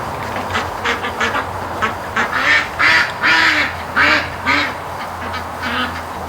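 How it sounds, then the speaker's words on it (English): Ducks quack in a swamp in a rapid series of loud, close calls, several birds overlapping in bursts over a faint low background hum. "now the ducks are moving over to this side of the swamp."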